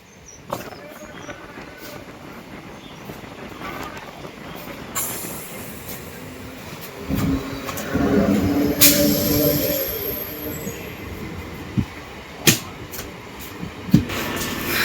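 Train noise at Chilakalapudi railway station: a rumbling carriage with rising wheel squeal and sharp metallic clanks, fairly close, over a steady background hum.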